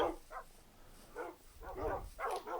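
Minecraft dogs give a few soft, faint barks spaced irregularly over a couple of seconds, with no talk over them.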